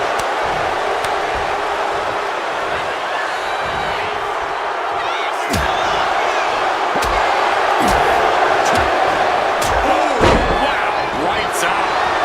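A German suplex slam in the WWE 2K26 wrestling game, featuring CM Punk, lands as a loud thud under a steady roaring arena crowd, with a commentator talking throughout.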